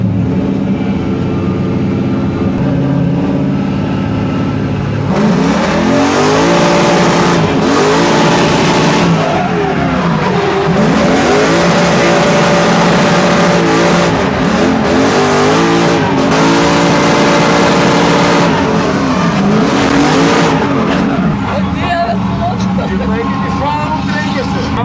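A BMW drift car fitted with a Mercedes AMG engine revs hard and loud throughout, roaring and dropping with repeated throttle swings and tire noise, while people talk over it.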